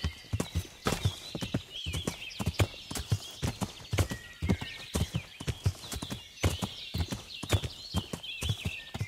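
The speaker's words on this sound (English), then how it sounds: "I'm just curious if the horse could jump" Horse hooves clip-clop in a steady rhythm through Kingdom Come: Deliverance, riding through woods, with a whinny breaking in partway; loud and close, no talking.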